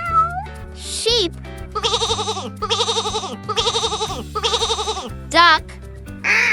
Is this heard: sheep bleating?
yes